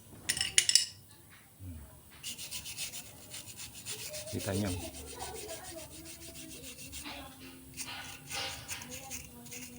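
Rough scratchy rubbing strokes of sandpaper scrubbing a Yamaha NMAX V2 scooter's brake, with water, repeat at close range, with a few clinks and a brief spoken remark.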